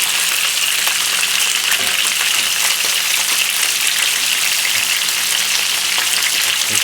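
Oil poured over marinated chicken in a frying pan produces a loud, steady, close sizzle with fine crackling throughout and no voices.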